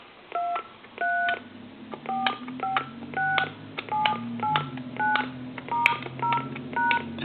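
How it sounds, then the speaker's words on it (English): Dialing tones from a hand-carved wooden dragon telephone ring out as a series of short evenly spaced DTMF beeps, clear and close, one per number pressed, with no voices. "We're gonna dial our numbers."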